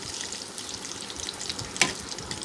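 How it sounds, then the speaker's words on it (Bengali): Slices of pointed gourd (potol) frying in oil in a pan, a steady soft sizzle and crackle with one brief sharper scrape or clack as the pieces are turned. "এবার আমি সুন্দর করে পটলগুলো উল্টিয়ে পাল্টিয়ে নেব।"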